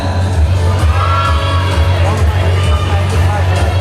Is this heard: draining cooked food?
no